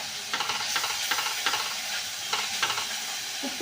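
Sliced onion sautéing in a pan for a simple egg gravy, a steady close sizzle with soft scraping stirs every half second or so, no talking.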